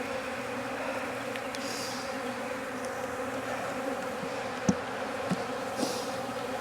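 Honeybees buzz steadily around an open hive during a queen-grafting inspection in Jacksonville, Florida, a close continuous hum with a few sharp clicks and taps from handling frames.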